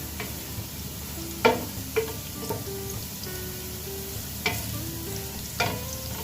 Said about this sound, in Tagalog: Halo lang hanggang sa mag-umpisa siyang mag-brown